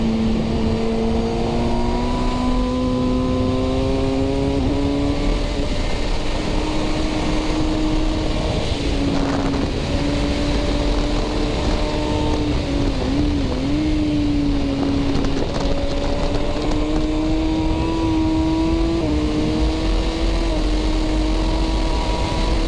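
A 2019 Kawasaki ZX6R fitted with a Cordona PQ8 quick shifter revs hard and loud, its engine note rising and dipping again and again through quick, clipped gear changes, with continuous wind roar throughout. No clear speech.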